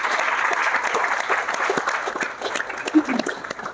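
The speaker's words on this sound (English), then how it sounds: "Guys, give them a round of applause." A film-festival panel audience at Cannes claps for the pavilion organizers, a moderate wash of applause that fades slightly toward the end with a faint voice underneath.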